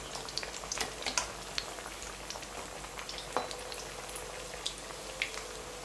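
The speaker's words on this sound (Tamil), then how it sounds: "கடாயில் எண்ணெய் நல்லா காஞ்சவன போடுங்க, அப்போ தான் ஒட்டாமல் வரும்." Potato and gobi masala vadai deep frying in hot oil in a kadai, a steady dense crackle and sizzle with scattered pops, fairly close and continuous throughout.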